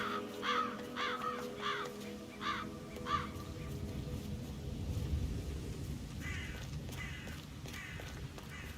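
Crows in the Hitman 3 video game caw in a run of five quick calls, then fall quiet before a second, fainter burst of caws near the end.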